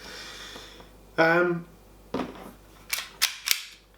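Secutor Magna CO2 pistol with a high-powered nozzle firing: a hissing burst near the start, then a sharp pop and three quick close snapping shots toward the end, mixed with a voice talking.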